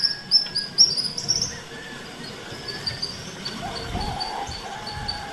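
Birds chirping at dawn in a village yard, bright scattered tweets early on, then fainter calls over low rustling background.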